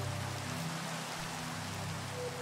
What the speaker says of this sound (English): it seems like whenever I'm outside, it's raining.